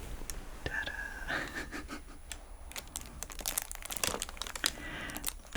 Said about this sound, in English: This is like super crinkly packaging.